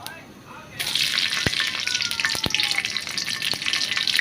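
Two bay leaves, black cumin and green chilies hitting hot oil, a sudden burst of frying that settles into a steady crackling sizzle, close by, with a few sharp pops and clicks and no voices.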